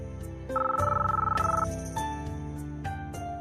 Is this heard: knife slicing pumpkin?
no